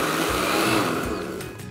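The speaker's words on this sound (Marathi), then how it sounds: "आता हे छान असं मिक्सरला हलकंसं फिरवून घेतलेलं आहे मी." A mixer grinder briefly pulses a wheat flour and dry fruit mixture, a loud close whirring grind that runs under two seconds and tapers off.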